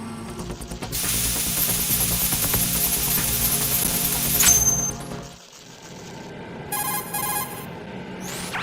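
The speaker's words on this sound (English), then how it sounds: "Use the spray from as far away as possible." A steady hiss of coolant spray from a can in a Metal Gear game, aimed at a bomb, blasts continuously for several seconds, then cuts off, leaving faint electronic beeps and tones.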